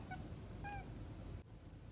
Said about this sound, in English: A cat sees a bird and she's meowing at it.